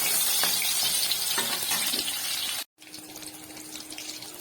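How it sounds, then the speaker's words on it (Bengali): Potatoes frying in hot oil in a wok, a steady hissing sizzle that cuts out briefly and returns quieter with a faint hum, no voices. "কড়াতে তেল দিলাম, তেল দিয়ে আলুগুলো দিয়ে দিলাম।"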